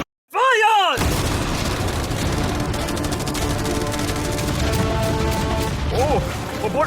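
A dense, continuous barrage of massed machine guns, cannons and fireworks all firing at once, a loud unbroken roar of rapid blasts and crackle that starts abruptly after a brief swooping tone.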